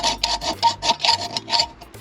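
Hand saw cutting a slit into a metal suspension part of a Mazda MX5 in a garage workshop, a steady rasping back-and-forth rhythm of about eight close, moderately loud strokes with no talking.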